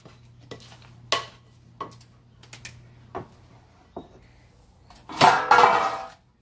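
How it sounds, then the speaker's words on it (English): Mint candies are stirred into thick brownie batter in a bowl, heard as a few separate soft knocks and scrapes of the spoon, then a louder, longer scraping swirl near the end. "Got all the brownie batter all mixed up. And I've already put the mint candies in. And mix those in."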